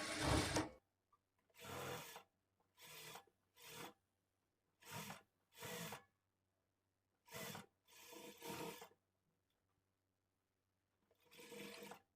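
A sewing machine stitches the lining of a blouse in short, separate bursts. About ten runs of close, loud whirring are broken by silent pauses, with no talking.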